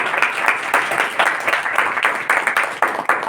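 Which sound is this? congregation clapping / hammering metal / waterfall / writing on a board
congregation clapping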